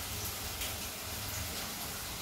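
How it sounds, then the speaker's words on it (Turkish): Steady sizzling hiss of chopped potatoes sautéing in a pan, a dense crackle of fat with a low background hum, no talking. "Soteliyorum, kızartıyorum."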